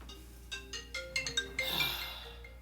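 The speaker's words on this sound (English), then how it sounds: "hold on one second, guys, because my phone is ringing" Cell phone ringtone playing a short melodic run of bright tones, fairly clear and close, with no one speaking over it.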